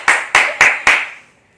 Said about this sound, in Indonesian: Kasih tepuk tangan dulu online.